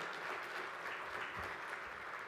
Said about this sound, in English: let's give these members a hearty round of applause and welcome them to our community.